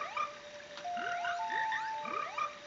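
Frogs in the video game The Legend of Zelda: Ocarina of Time croak in a repeating sequence of bright, springy synthetic ribbits, with sustained game tones playing alongside.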